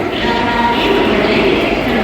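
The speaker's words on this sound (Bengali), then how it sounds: "এই যে আমাদের ট্রেন দিয়ে দিয়েছে" A steady, loud rumble and hum fill a railway platform where the Howrah Barmer Express stands, with no breaks across the stretch.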